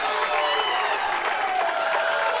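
Crowd cheering and applauding at a high school state bowling championship, a steady wash of claps and shouts from a large group filling the hall.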